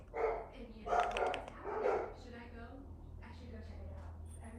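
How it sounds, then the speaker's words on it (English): A few barks from a dog or two sound in quick succession at moderate distance, then fade to quiet room noise. "sorry about the barking dogs"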